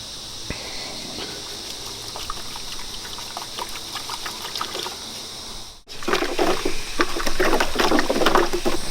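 Water splashes and trickles steadily, close by, as it is poured to mix a mould-killer solution, with a louder, busier rush of pouring starting partway through after a brief pause.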